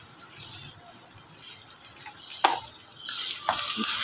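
Pota karai is stirred in a frying pan, with a soft continuous sizzle broken by a few scraping, clinking stirs.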